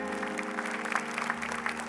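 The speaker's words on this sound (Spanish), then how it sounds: "Denle un saludo a Sandra, un aplauso de bendición." Congregation applause during a Spanish-language church service, steady dense clapping sustained throughout under a low background hum.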